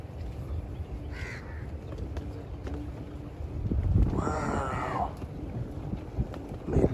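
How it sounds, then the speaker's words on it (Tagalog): Crows caw several times over wind and a low rumble on a man-made island, with one louder, harsher call standing out near the middle. "Puro uwak."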